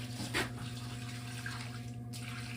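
Hot water poured onto frozen ground beside a drain in 23-below-zero cold, a steady broadband splash and trickle with a brief louder gush near the start, alone with a constant low hum underneath.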